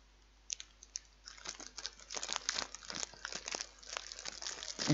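A knife cuts a slice from a Cadbury Yule log chocolate cake nearly a month out of date, making close, crisp crackles and crunchy crinkles that start sparse and grow denser toward the end, with no talking.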